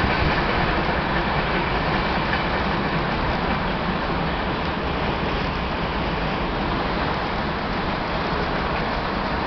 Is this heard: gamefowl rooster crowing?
no